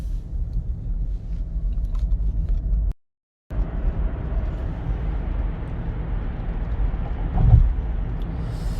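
A 2017 Hyundai Ioniq Electric with 16,000 km on it drives along, filling the cabin with a steady low road rumble and tyre noise. There is no engine note and a brief gap of silence.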